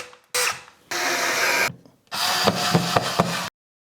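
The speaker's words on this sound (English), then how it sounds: "I set it in there and I bring my drill up to full speed and then slowly plunge it" A power drill bores holes into taped wood, running in three sustained bursts with brief pauses between them, loud and close with no talking.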